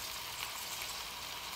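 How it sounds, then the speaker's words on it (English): Meat for beef bourguignon searing in a hot pan, a steady broadband sizzle that stays even and fairly close throughout, with no voices. "you sear it like on every side"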